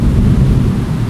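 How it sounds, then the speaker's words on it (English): Thunder as a low, loud rumble rolling steadily through the brief moment, with no one talking. "we got a little bit of thunder here"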